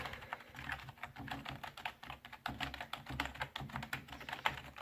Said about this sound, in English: It's fairly loud keyboard.